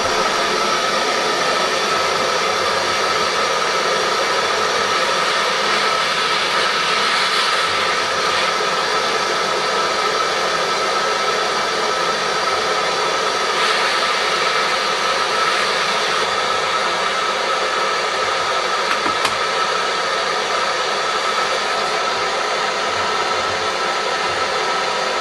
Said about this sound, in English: I do this by heating up the shaft to about 200 degrees with a torch